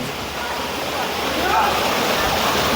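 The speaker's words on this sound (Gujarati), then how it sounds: "આ ઝરણું ઉપરથી આવી અને છેક નીચે સુધી જાય છે" Mountain stream at Sundha Mata, Jalore, Rajasthan, running down alongside the temple steps: a steady, broad rush of flowing water, close and continuous, with faint voices in the background.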